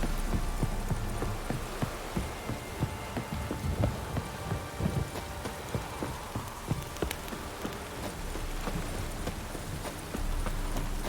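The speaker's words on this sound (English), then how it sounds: "This downpour's a bastard, it is." Steady, heavy rain in The Witcher 3 patters down without pause, a dense hiss of drops with occasional louder splashes.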